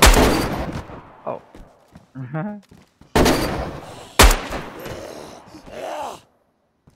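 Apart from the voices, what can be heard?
gunshots in the video game DayZ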